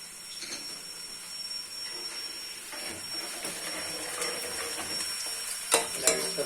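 Onions frying in a pan until light brown, a steady soft sizzle and hiss with occasional stirring scrapes, heard alone and close by.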